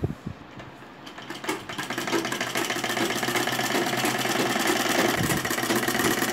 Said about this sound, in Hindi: मैं इसकी सिलाई करके दिखा रही हूँ